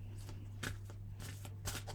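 A deck of Healing Oracle crystal reading cards is shuffled by hand close up. The soft riffling swishes come in several short bursts against a quiet background.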